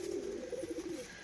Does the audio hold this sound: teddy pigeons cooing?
yes